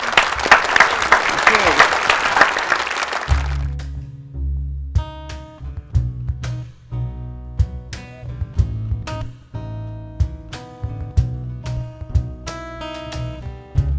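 Audience applause for a four-member band at a live cover show, a dense burst of clapping for about three seconds that gives way to the band starting to play.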